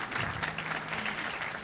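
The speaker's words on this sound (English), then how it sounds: "can we give her a round of applause?" Audience applause at a World Bank meeting session, a brief, fairly soft burst of many hands clapping together, with no voices over it.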